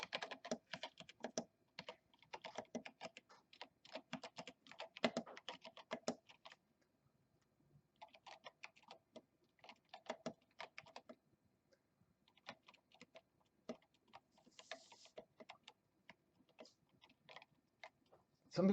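Typing on a GON TKL mechanical keyboard: dense runs of crisp clicky keystrokes, close and fairly quiet, in bursts with short pauses and a brief lull around the middle.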